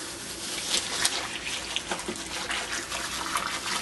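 A brewing mash gets stirred in water, making soft continuous sloshing and swirling liquid noise close by with no voices.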